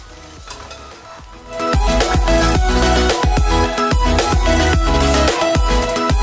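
Egg fried rice seasoned with salt, white pepper and garam masala sizzles loudly in a hot pan while a utensil stirs and scrapes it in quick repeated strokes after a quieter opening.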